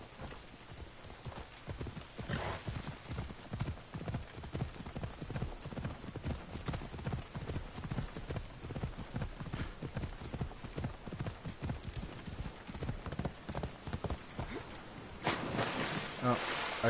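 Rhythmic horse hoofbeats in the video game Assassin's Creed Odyssey clip-clop steadily throughout, with splashing water underneath and occasional bursts of louder noise near the end.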